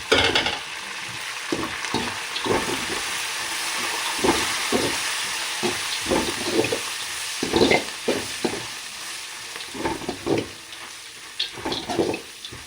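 Curry leaves, dry red chillies and asafoetida spit and sizzle in hot oil for a crispy tempering for white jowar puri, with a steady frying hiss broken by repeated stirring scrapes at a close, moderate level.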